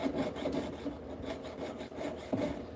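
Jeweler's saw blade cutting through a silver stamping held with a light grip, giving a steady raspy rubbing of metal sawing in continuous strokes, close and fairly loud, with no talking.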